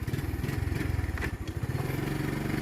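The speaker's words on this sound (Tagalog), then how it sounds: "Nasa isang motor, akit ng bundok. Yan, habal." Habal-habal motorcycle taxi climbing a mountain road near Infanta, Laguna, its engine droning steadily and close, with a rhythmic low chugging and occasional clatter throughout.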